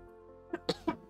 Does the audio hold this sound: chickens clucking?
no